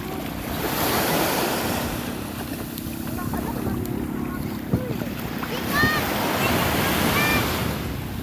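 Surf rolls and washes steadily with wind buffeting the microphone, and brief voices come through faintly over the noise.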